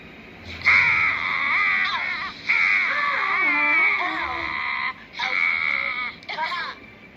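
A cartoon crow sings in drawn-out, wavering cawing tones, loud and close, in several long phrases with short breaks between them, like a voice actor imitating a crow.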